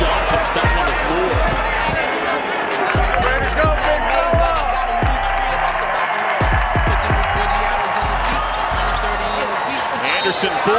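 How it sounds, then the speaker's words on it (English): Basketball arena crowd roaring steadily through a UNLV versus Utah State game, loud and dense throughout, with sneaker squeaks and repeated ball bounces punching through the noise. "Listen to the crowd as John comes down on the floor."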